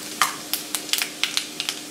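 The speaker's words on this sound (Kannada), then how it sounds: "ಎಣ್ಣೆ ಕಾಯಿತ್ತು, ಸಾಸಿವೆ ಹಾಕಿ, ಸಾಸಿವೆ ಚೆಕ್ಬಿಟ್ಟು ಕಡಲೆಬೇಳೆ ಉದ್ದಿನಬೇಳೆ ಹಾಕಿ." Mustard seeds with chana dal and urad dal crackling in hot oil for cabbage upma, a quick series of sharp popping spits at close range.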